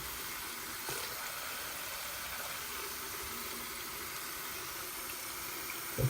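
A steady, hissing rush of water pours continuously from a faucet into a sink at moderate volume, with a brief clunk near the end.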